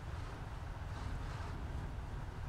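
Several tank engines rumbling together in the War Thunder tank battle game, a dense, steady low drone with a faint whooshing layer above it, continuous throughout with no talk.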